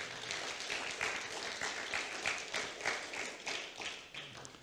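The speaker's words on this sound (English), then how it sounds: "give the Lord a clap offering of praise in his house today" A church congregation claps in praise during a sermon, a dense run of fast, overlapping handclaps that fill the room and slowly fade.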